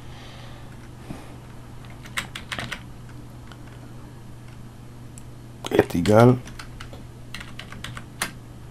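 Keys clack on a computer keyboard as ALT key codes are typed, in scattered short taps and a quick burst of several keystrokes midway, with a steady hum beneath and a few quiet spoken words.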